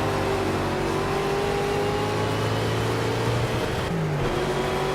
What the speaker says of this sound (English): Need to get on that gear change before it starts over revving the engine.